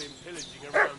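A dog in Kingdom Come Deliverance 2 gives a single short bark near the end, mid-distance, with a voice-like murmur underneath.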